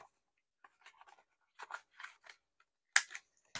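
Scissors snipping around the top corners of a handmade paper mini journal page, a few short crisp cuts in separate quiet bursts, close up with no talking.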